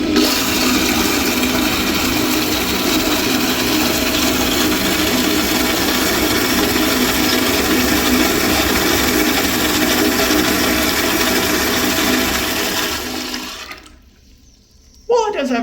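An Eljer Signature back-outlet toilet flushes with a loud, steady rush of water swirling through the bowl rinse for about thirteen seconds, then cuts off to near silence before a brief final gurgle.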